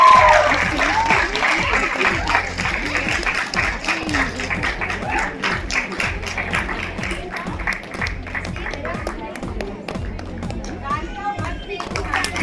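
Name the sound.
audience applause at dance competition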